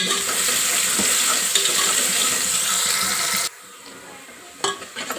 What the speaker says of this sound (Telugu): రెండు ఉల్లిగడ్డలు కట్ చేసుకున్నాం ఇవి ఫ్రై చేసుకున్నాము